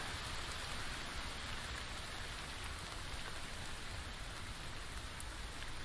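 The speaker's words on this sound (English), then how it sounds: "maybe a quick rain before we get there" Steady rain in the survival video game The Infected, a constant dense hiss of falling drops at moderate, even level with no talk over it.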